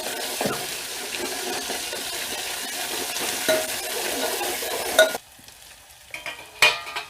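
Chillies and crushed garlic dropped into hot oil, giving a steady close sizzle that runs for several seconds, cuts out abruptly, then returns in a few short bursts.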